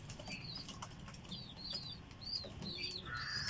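Birds in a loft flutter and flap their wings in repeated short bursts, faint and close, with soft cooing and chirps over a low background hum.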